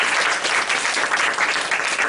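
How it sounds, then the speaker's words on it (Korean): A church congregation gives a round of applause, a dense, even wash of many hands clapping throughout, steady and moderately loud with no talk over it. "주님께 우리가 한번 영광의 박수를"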